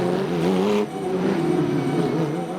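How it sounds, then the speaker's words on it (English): Porsche 911 GT3 Cup race cars firing up on the grid, a loud, rough engine note that rises sharply and then settles into a steady, throaty idle close by. "the Porsche 911 GT3 Cup cars start their engines and that very distinct"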